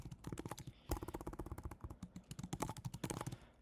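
Computer keyboard typing in quick, uneven bursts of close key clicks, fairly faint, with no talk over it.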